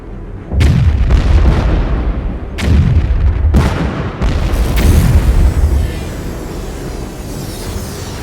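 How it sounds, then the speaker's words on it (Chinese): Electromagnetic bomb detonating in an animated sci-fi series: a string of loud, deep booming blasts, several sharp-onset bursts in quick succession, then a lingering rumbling decay. "各单位准备，电磁炸弹引爆倒计时，3、2、1。"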